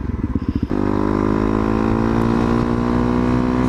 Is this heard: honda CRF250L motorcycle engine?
yes